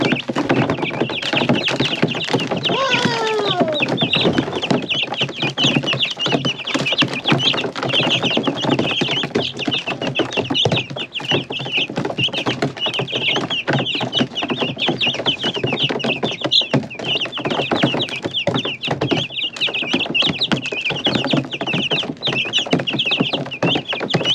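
Chickens cluck and chatter continuously nearby, a busy overlapping flock filling the whole stretch, with no voices.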